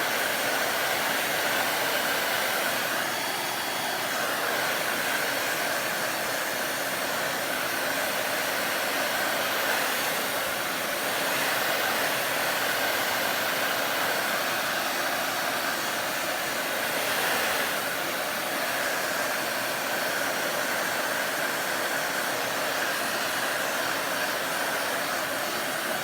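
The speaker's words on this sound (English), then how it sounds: "remember that you can heat the metal up with the blow dryer" Steady, continuous roar of a blow dryer heating the metal clip of a clipboard being given a makeover, constant and close for the whole stretch with no talk.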